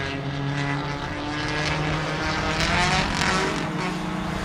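High-pitched small four-cylinder race car engines buzzing and revving at a stock car race, with a droning whine that rises and falls, heard from a distance without talk.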